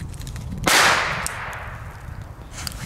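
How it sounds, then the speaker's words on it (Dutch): A single old firecracker explodes outdoors with one sharp, loud bang followed by a long fading crackle and hiss, with faint background noise before and after. "Ja, dat zijn die rotjes van toen, man."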